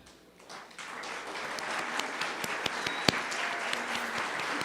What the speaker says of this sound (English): please greet them with a round of applause